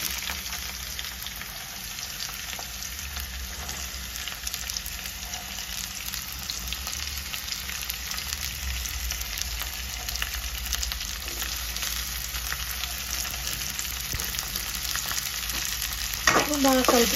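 Ivy gourd frying and being stirred in a hot pan, a steady continuous sizzle throughout with faint scraping of the utensil and a louder clatter right at the end.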